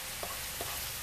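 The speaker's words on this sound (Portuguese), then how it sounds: "Agora a gente deixa ele fritando aqui um pouquinho" Colorau frying in a pot with the other ingredients for a beef shank broth, a faint, steady sizzle with a couple of soft pops.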